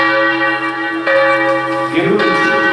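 A loud church bell rings out over a town square, its sustained, humming tone ringing on across the clip with a fresh strike near the end.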